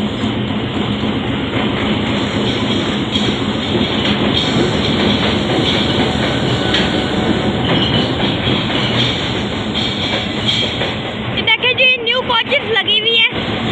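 Green Line Express passenger train pulling into Rawalpindi railway station, a loud continuous rumble of wheels and carriages rolling past close by for most of the stretch, ending in quieter rattling clicks and squeals as the cars slow.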